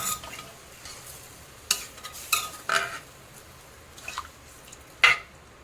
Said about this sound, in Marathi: त्याच्यानंतर साखर चांगला असं एकजीव करायचं आहे